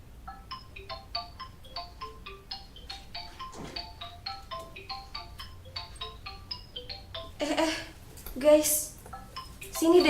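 A phone ringtone plays as a repeating run of bright melodic beeps at a steady rhythm, fairly close. Toward the end, louder clinks and rustling break in over it.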